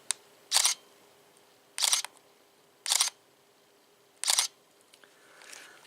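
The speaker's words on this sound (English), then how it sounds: "the shutter doesn't sound too bad on it for a small plasticky camera" A Canon T2i, a small plasticky DSLR, fires its shutter four times at a steady spacing of about one to one and a half seconds, each crisp double-clack close and loud, with a faint softer click trailing at the end.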